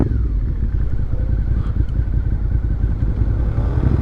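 A Suzuki SV650 motorcycle being ridden, its engine droning steadily and loudly up close throughout with gear changes through first and second, no voices over it.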